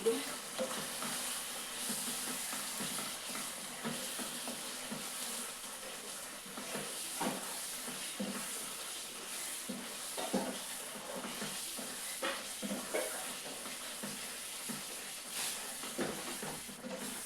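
Chicken curry masala stirred and frying in a pan in a home kitchen: a steady sizzle runs throughout, broken by repeated scraping strokes of a spoon, close and fairly loud, with no talking.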